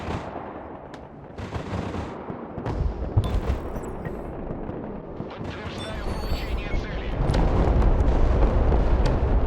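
Bombing in the Broken Arrow strategy video game, with repeated heavy explosions and rumbling booms mixed with rattling gunfire, building into a louder, sustained barrage toward the end.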